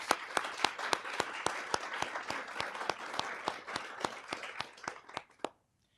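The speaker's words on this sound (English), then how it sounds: "A big round of applause for our selection committee, please." Audience at a college speech showcase gives a round of applause, a steady run of sharp, closely spaced claps that fades out near the end, fairly distant in a hall.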